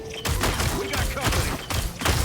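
Hawkeye's explosive arrows burst in a video game, a rapid series of loud, close blasts arriving in clustered volleys with brief gaps between them.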